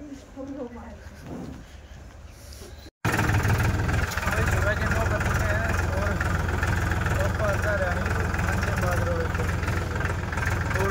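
A tractor engine idles at a grain market where millet is being sold, a steady mid-low rumble that starts abruptly and holds continuously, with people talking nearby before it.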